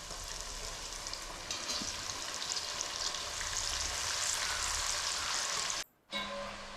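Jackfruit pieces deep-frying in oil make a steady, dense sizzle with fine bubbling crackle, holding level for several seconds before cutting out briefly and resuming.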